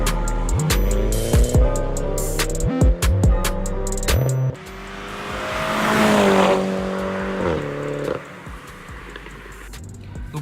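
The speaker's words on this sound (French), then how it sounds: "les rapports se passent très rapidement à 2000 tours" Mini Cooper JCW engine accelerating hard with quick gear shifts around 2000 rpm, the revs climbing and dropping sharply through several rapid upshifts, then a rushing swell and a steadier drone, loud and close.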